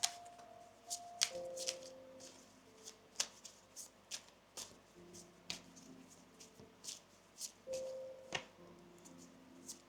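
Tarot cards being gathered up and shuffled by hand, close and crisp, with a run of quick papery riffles and taps over about ten seconds and no talking.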